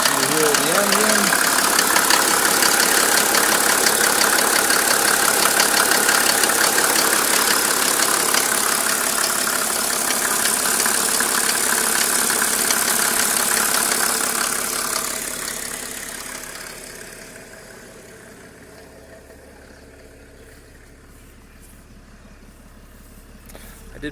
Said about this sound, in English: I'll let you hear the engine.